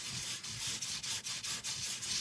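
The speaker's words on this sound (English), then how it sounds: "you just kind of sand the raised surfaces like this" Rhythmic scratchy rubbing as an emery board is swept back and forth over the raised surfaces of an embossed card in quick, even strokes, close up and fairly quiet.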